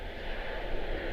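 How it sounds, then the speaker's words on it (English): An Airbus A321neo jet on landing rolls out with reverse thrust, a steady broad engine roar at moderate distance. "A321 Neo. They're so quiet on the reverse thrust."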